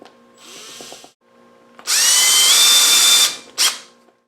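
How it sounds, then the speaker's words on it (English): A power drill with a 3/16 inch bit bores holes in a Triumph Spitfire Mk2/3 seat frame, with short whirring bursts and one loud sustained high-pitched grind lasting over a second, then a brief final burst. "3/16 inch bit, gonna drill them out."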